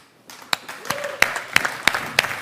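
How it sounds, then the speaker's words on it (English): Scattered claps build into audience applause at an award show, with several sharp individual claps standing out over a thin crowd murmur. "can I ask you for a thunderous applause and maybe a standing applause?"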